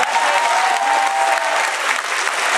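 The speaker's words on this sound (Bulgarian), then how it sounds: "Специални аплодисменти за основно училище Любен Каравелов" At a charity concert, an audience claps loudly and continuously as a primary school is honoured for its donation, a dense, even roar of many hands throughout.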